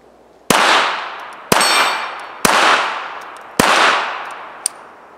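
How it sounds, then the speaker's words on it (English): Pistol fired two-handed: four loud, sharp shots about a second apart, each ringing out with a short reverberant tail, with faint metallic clinks between them. "Now Brian's going to shoot it."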